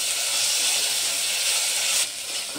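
Ginger garlic paste sautéing with onion in a pan for a quick soybean pulao, a steady close hiss that drops slightly near the end.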